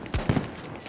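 Spas-12 shotgun fired in Battlefield 2042, two or three sharp, loud booming blasts in quick succession, close up, with quieter game ambience between them.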